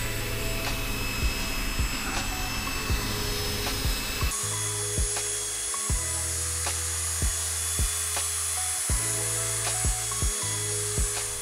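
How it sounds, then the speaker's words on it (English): A drill brush scrubs upholstery cleaner into a car seat during interior detailing, giving a steady motor whine with regular rubbing clicks that continue alone for several seconds and grow clearer partway through. "I'm going to be using a drill brush"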